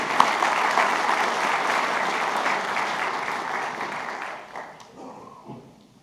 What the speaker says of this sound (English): Let's give those folks another round of applause.